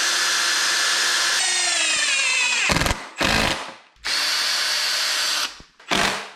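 A power drill drives screws into an outboard motor stand, with long steady whirring bursts separated by short pauses and a brief final spin, close and loud with no talking.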